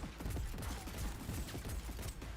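Dense gunfire in a combat scene of the video game Cyberpunk 2077, with pistol shots among rapid overlapping bangs and rumbling impacts that run continuously and fairly faintly throughout.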